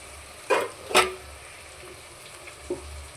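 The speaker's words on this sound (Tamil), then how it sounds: "எண்ணெய் இப்படி தெரிக்கிறதுனால செம்ம சூடாகுது" Hot oil crackles in a pan during sautéing, with a few sharp spattering pops standing out over a low, quiet background hiss.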